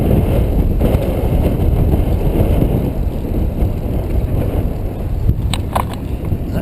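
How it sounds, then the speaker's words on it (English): Wind roars and buffets steadily across the microphone during a recumbent trike ride on a sunny outing, a loud, continuous rushing that dominates the whole stretch with only faint road and passing sounds beneath. "except for the wind, it's a very nice day"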